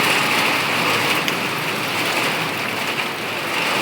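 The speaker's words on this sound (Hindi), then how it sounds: "बारिश शुरू हो गया, मौसम चेंज हो गया पूरा" Rain begins falling outdoors as the weather turns, a dense, steady hiss of drops on surfaces that stays fairly loud and even throughout, with no voices.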